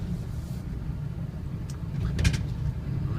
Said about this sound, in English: Cummins aren't known for their quiet motors, but this one's a quiet one